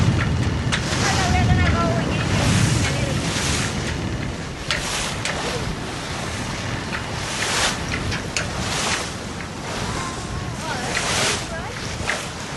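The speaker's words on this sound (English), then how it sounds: "in order to get this thing sailing, you need like a good amount of wind, and this is pretty good amount of wind." A 1977 Morgan 41 Out Island ketch sailing in strong wind and waves, with steady broadband wind rush and water wash against the hull throughout, buffeting the microphone; voices talk intermittently over the noise.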